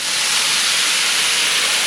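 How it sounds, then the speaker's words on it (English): Steam hisses loudly and steadily as water is poured into a hot pan of pulled pork nachos to melt the cheese, a broad continuous sizzle close to the microphone with no talking. "Try to get some steam so we can get that cheese to melt."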